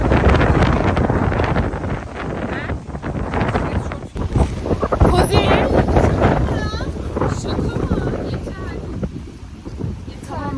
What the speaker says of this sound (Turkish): Çok esiyor bu arada.